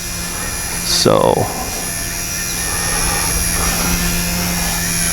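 A small XK K110 mini brushless RC helicopter whines steadily in flight outdoors, with a constant mains-like hum under it and a brief spoken word near the start.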